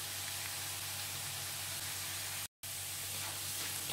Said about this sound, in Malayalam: അതുവരെ ഒന്ന് വഴറ്റി എടുക്കാം നമുക്ക്.